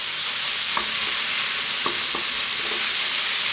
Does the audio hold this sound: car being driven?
no